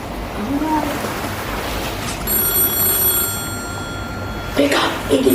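A telephone rings aboard a ship, a bright metallic ringing burst rising over a noisy background of wind and sea, with a voice speaking briefly before it.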